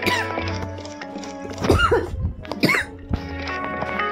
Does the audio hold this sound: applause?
no